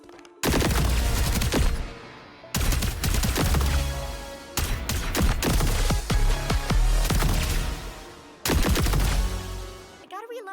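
Bursts of rapid gunfire from a guitar-themed weapon skin in the FragPunk shooter, four dense volleys of sharp repeating shots with short gaps between them.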